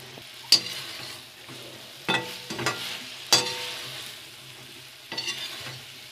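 Okra and chopped onions being stirred and fried for bhindi do pyaza, several sharp scraping stirs of a utensil over a soft pan sizzle, close up with no talk.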